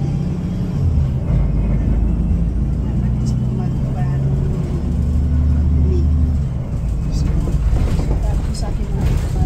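Inside a moving bus heading to downtown San Mateo, California, a continuous low rumble and road noise fill the cabin, with a few light knocks and rattles over the top.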